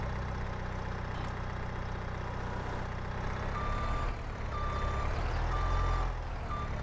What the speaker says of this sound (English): So we'll run around here and grab this mower off the trailer here with the skid steer.